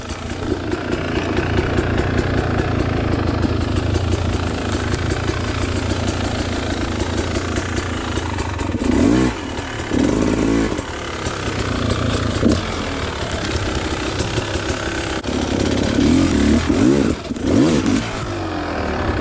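A Beta Xtrainer 300 enduro motorcycle runs continuously during hard enduro training drills at Twin Hills, its two-stroke engine droning and revving up and down in repeated surges, loud and close for the whole stretch with no talk.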